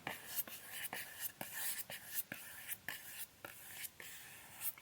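Brush strokes dragging across a baked polymer clay art piece, a steady series of soft, dry swishing passes repeating about once or twice per second, close and quiet with no talking.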